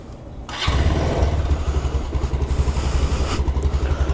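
Motorcycle cold start: a brief quiet lead-in, then the engine fires and settles into a loud, close, steady idle with a pulsing throb and no talk over it.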